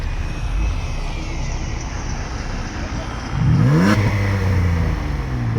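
A Ford Edge 3.5 AWD with a valved exhaust idles, then revs up sharply around the midpoint, the engine note rising and falling close by while people talk over it.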